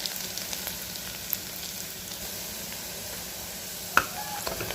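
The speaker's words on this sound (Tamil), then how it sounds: "இப்போ வெங்காயம் நல்லா வதங்குது." Onions and tomato frying in a pan for beef biryani, giving a steady soft sizzle with occasional stirring clinks, one sharper knock near the end, and no talk.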